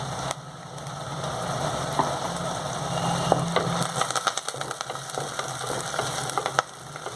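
Onions and curry leaves fry in hot oil for an aloo cauliflower curry, giving a steady soft sizzle with a few sharp crackles and spatters and a low background hum.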